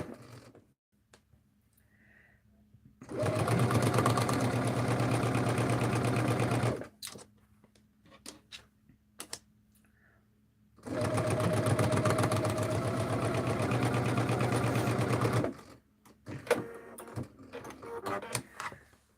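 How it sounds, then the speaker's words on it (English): Sewing machine stitching quilt half square triangles in two long steady bursts of rapid mechanical whirring, each several seconds long, separated by quieter pauses with small handling clicks and rustles. "I sew my half square triangles, and then I sew on the little corner here"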